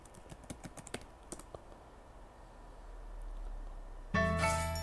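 Keystrokes tap out a password on a computer keyboard, a brisk run of distinct clicks that thins into quiet before a louder burst of sound cuts in near the end.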